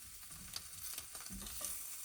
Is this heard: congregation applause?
no